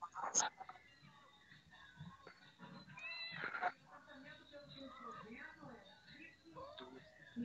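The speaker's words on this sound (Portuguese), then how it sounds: "Eu também escutei um gato, cara." A cat meows a few times amid a game session, with friends chatting and laughing over the top of it.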